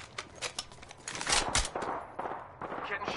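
Rapid gunfire bursts in the shooter game Destiny 2, a fast, loud volley of shots in an uneven rhythm that swells in the middle and then continues in shorter spurts, with no talk over it.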